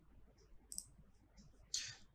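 Mouse clicks on a save button, two faint, sharp clicks close by over a quiet background hum.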